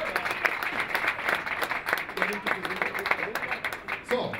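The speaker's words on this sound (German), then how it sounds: "Geht davon aus, wir kriegen einen Applaus" Applause rises for goalscorer Jannik Bandowski at a 1860 Munich fan talk event, scattered, moderately quiet clapping mixed with crowd murmur and voices talking over it.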